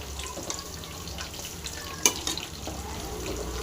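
Sardine fish kebabs being turned and frying in a pan, a low steady sizzle with a sharp clink of utensil against the pan near the middle and a few softer scrapes after it.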